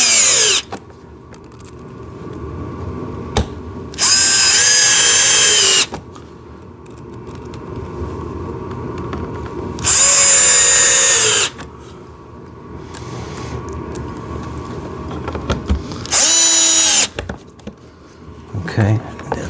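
A power drill drives small screws into a JCB ride-on toy tractor excavator during assembly, three loud whirring bursts of a second or two each, separated by quieter handling noise and someone talking.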